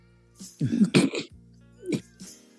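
Several short coughs and throat-clearing sounds come from one person at close range, spaced in a quick irregular cluster over a faint hum.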